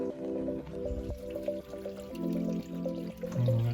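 Water siphoned out of a bucket trickles and drips into a homemade hydroponics tank, a faint, uneven gurgling with scattered droplets.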